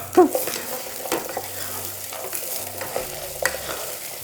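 Garlic and onion sautéing in a pan for a creamy ash plantain soup, giving a steady close sizzle with occasional stirring scrapes and soft clinks, and no talk.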